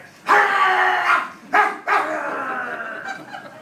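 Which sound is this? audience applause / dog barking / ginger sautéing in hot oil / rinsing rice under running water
dog barking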